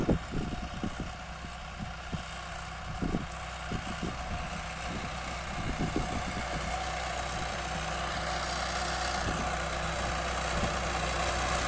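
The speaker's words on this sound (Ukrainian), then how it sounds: "Трактор пихтить" A heavy tractor engine idles and chugs while discing corn stalks before sowing barley, with uneven thumping pulses at first that settle into a steady low drone; no one speaks.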